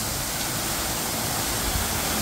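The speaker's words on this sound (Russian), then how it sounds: "смотрите, какой мы нашли красивый водопад." A waterfall in Turkey roars as a steady, dense rush of falling water, loud and close, continuous with no breaks and no voices.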